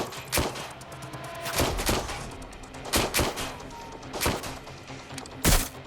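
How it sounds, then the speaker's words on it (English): Watch Dogs Legion gunfight with scattered loud gunshots and short bursts at irregular intervals, sharp and close over a busy game background. "Gunfire!"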